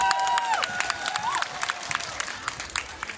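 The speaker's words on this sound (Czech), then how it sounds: "Obrovský potlesk, díky." Crowd applause and cheering at a zumba dance competition in Zlín, sustained and moderately loud through the whole stretch, with a few whistle-like tones and scattered shouts rising above the clapping.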